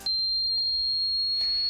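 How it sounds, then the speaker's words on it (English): A steady high-pitched electronic tone rings continuously like ear ringing, a single pure whine that holds for nearly two seconds at a constant pitch, alone with no talk. "It's the same high-pitched ringing noise you hear sometimes in your ear that your friends can't hear."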